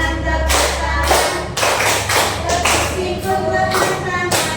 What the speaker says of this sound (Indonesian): Ikut tepuk tangan, tepuk tangan.